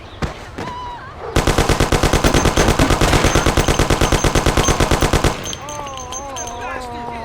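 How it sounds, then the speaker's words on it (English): In the Mafia video game, a machine gun rips off a long, rapid burst of loud, evenly spaced shots lasting about four seconds, followed by a voice shouting afterward. "Lord, it's shooting here!"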